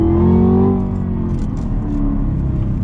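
Chevrolet Camaro ZL1 with 650 horsepower and a 10-speed automatic accelerating hard, a loud close engine roar climbing in pitch then settling as it shifts, a deep rumble underneath.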